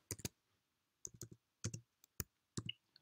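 Fingers typing on a computer keyboard in short, quiet bursts of close clicks, separated by brief silent pauses.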